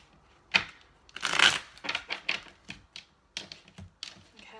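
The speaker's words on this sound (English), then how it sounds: "I'm just going to shuffle with the Radiant Rider-Waite Tarot now" A Radiant Rider-Waite tarot deck is shuffled by hand in several quick bursts of crisp riffling and slapping card noise, close and dry, separated by short pauses.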